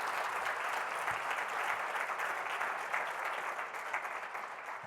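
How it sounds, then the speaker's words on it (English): Audience at a Michigan energy policy forum gives a final round of applause for the panelists. The clapping is steady and dense, somewhat distant and soft, holds evenly, then tapers slightly at the end. "So one final round of applause for Jerry"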